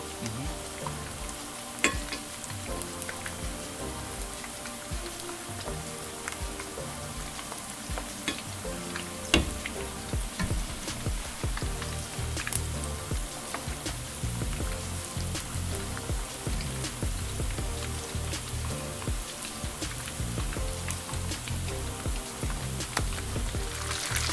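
Meatballs for sub sandwiches frying in a pan, a dense, continuous crackling sizzle like steady rain, with occasional utensil clicks and stirring noises, close and unbroken for the whole stretch.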